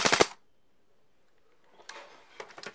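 A Black Ops M4 toy gun bought at Walmart fires a quick burst of sharp, rattling clicks up close, then after a pause fires a few more scattered, lighter bursts.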